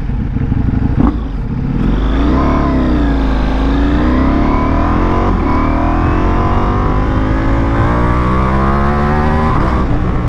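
Ducati Multistrada motorcycle engine revving steadily and climbing in pitch, loud and close, with continuous throaty drone and rising harmonics throughout, no talking.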